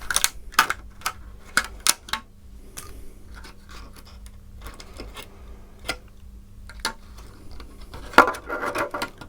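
Cut pieces of a clear Lexan RC car body for a Kyosho Turbo Optima Mid Special snap off one at a time, sharp crisp cracks spaced irregularly over a quiet background.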